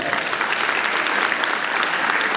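Loud, dense audience applause at a student talent show at a school, a continuous roar of many hands clapping with no gaps for the whole short stretch.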